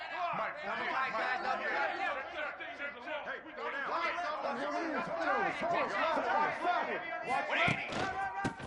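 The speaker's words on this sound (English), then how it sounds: "This crowd ready to make its presence known." A large crowd at a college football stadium for Ohio State versus Oklahoma chatters and roars in a dense, continuous wash that swells here and there, with no single voice standing out.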